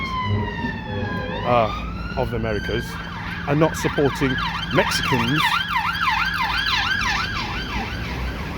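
A police car siren passes close by, first a rising wail, then fast repeating yelps that swing up and down over steady traffic noise, while someone talks over it.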